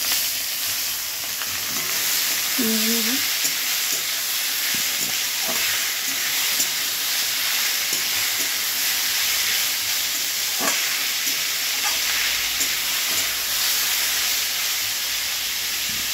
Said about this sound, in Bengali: চাল কুমড়োগুলো দিয়ে দেবো কড়াই